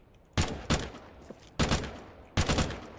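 Gunfire in Counter-Strike 2 rings out in three short bursts of a few sharp, loud shots each, separated by brief quiet gaps, with no talking over them.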